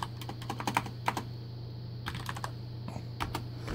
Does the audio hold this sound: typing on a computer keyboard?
yes